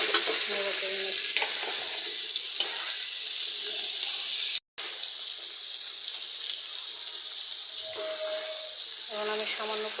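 Salt being stirred into a pan of drumstick curry: a steady close sizzle with scraping spoon strokes and light clinks, cut by a brief silent gap midway, with no talking.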